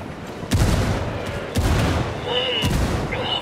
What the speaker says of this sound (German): Granate fliegt.